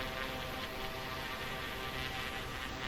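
Steady, loud drone of a Piper Aerostar twin-engine aircraft at climb power just after takeoff, with wheels and flaps up; a continuous engine and airflow roar fills the cabin without a break.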